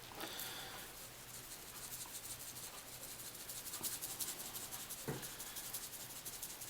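Dry rib rub being spread by hand over raw ribs, a soft continuous rubbing and brushing friction with a few light taps, close but quiet.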